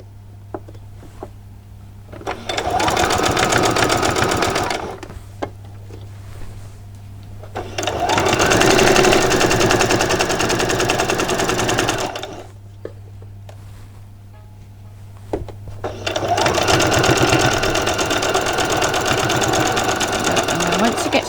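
A sewing machine back stitching a seam on a skirt for a two-skirt dress runs in three loud, close, steady whirring bursts separated by short quiet pauses, with a low hum between them.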